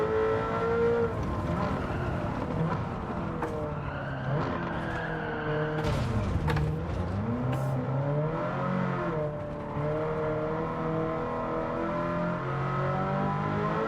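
Race car engine in Gran Turismo 7 droning steadily through a fast lap at a French circuit, its pitch rising and falling with shifts and revs, the back end sliding out with tire squeal, loud and continuous throughout.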